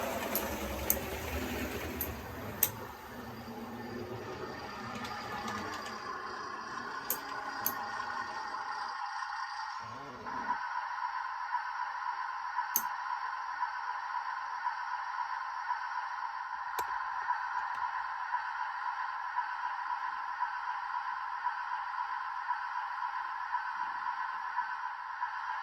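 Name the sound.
sound capsule of a Triang Hornby diesel Pullman model train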